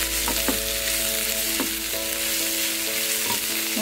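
Slit green chilies with chopped ginger and garlic sautéing in a pan for caramelized prawns masala, a loud constant sizzle with occasional stirring scrapes and a faint steady hum underneath.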